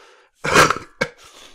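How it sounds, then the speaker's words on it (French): A single loud, harsh cough right up close, followed by a short second burst and a breathy exhale. "la grosse toux dans le micro"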